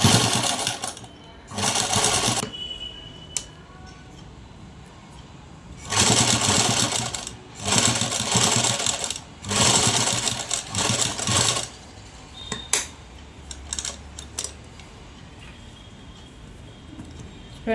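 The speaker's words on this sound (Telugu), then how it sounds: "చూడండి ఇదైతే కనుక కుట్టేశాను" A sewing machine stitches an old blouse as it is remade, running in several loud bursts of a few seconds each with pauses between, then only faint scattered handling sounds toward the end.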